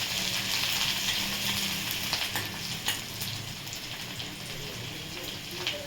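Sautéing in a pan for a dill greens (shepu) dish, with turmeric and mustard seeds in oil: a steady, moderately loud sizzle with faint crackles and a few scraping stirs, no talk.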